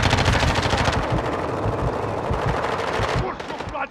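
Rapid automatic gunfire in the Call of Duty video game, with dense, loud bursts of shots that fire almost continuously, followed by a brief lull near the end.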